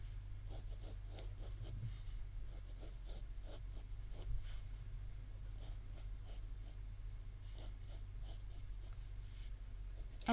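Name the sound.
pencil drawing a horse on paper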